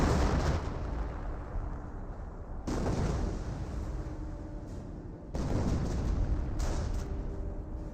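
Off-map artillery barrage in the Company of Heroes video game, three heavy booming explosion bursts at roughly even intervals, each with a loud onset and a long rumbling tail, close and dominant with no talk.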